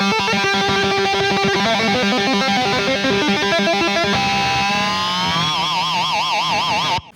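A distorted electric guitar plays a thrash metal riff, with fast, chugging palm-muted notes in an odd meter. It then moves into a wavering, vibrato-laden dive before cutting off abruptly, loud and alone.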